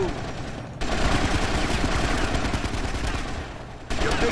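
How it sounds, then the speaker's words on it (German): Sustained automatic rifle fire in GTA Vice City Stories, dense rapid bursts rattling almost continuously at close range, with brief drops in intensity between volleys. "Hier wird richtig scharf geschossen."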